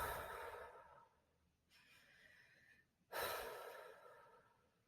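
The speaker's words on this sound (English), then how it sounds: "Take 3 big, deep breaths with me to cement it in." Slow, deep breaths taken close up in a quiet room: a long airy exhale, a softer inhale, then another full breath out, heard alone with no talk.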